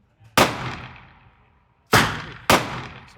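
Three loud gunshots from a new Smith & Wesson M&P 10mm pistol at an outdoor range, a single sharp report followed by two quicker shots, each with a ringing decay and no talking.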